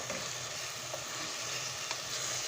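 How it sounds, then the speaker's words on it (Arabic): Zaalouk, a Moroccan eggplant dish, being stirred as it cooks down in a pan, heard as a faint, steady sizzle with soft occasional scrapes and no voices. "غنبقاو نحركو فيها ان شاء الله حتى توقف الزعلوكه ديالتنا، حتى تنشف مزيان"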